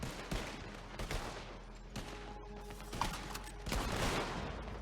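Gunfire in the online western game Red Dead Online: several sharp shots spaced across the clip, close and fairly loud, with no talking.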